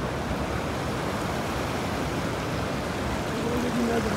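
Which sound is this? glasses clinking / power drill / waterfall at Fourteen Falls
waterfall at Fourteen Falls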